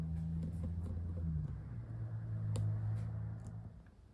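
A small Vevor oil-free air compressor refills an empty tank, running with a steady low hum that shifts pitch partway through, close and fairly quiet.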